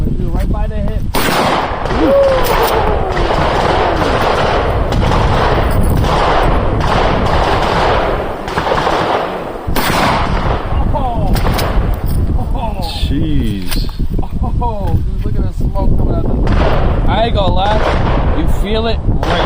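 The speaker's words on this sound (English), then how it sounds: "Sounds like a shootout." Rapid machine gun bursts crack loudly and continuously at a shooting range, with sharp shots firing one after another throughout and voices heard between the volleys.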